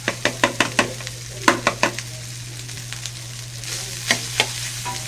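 Leftover cooked rice being stir-fried in a pan for an American-style fried rice, with steady sizzling and a series of sharp scraping, stirring strikes clustered near the start and again toward the end, close and fairly loud, no talking.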